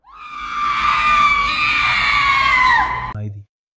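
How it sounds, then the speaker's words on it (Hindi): A mother screams in a hospital horror story, one long loud shriek held for about three seconds before cutting off abruptly. "थोड़ी देर बाद उसकी भी चीख"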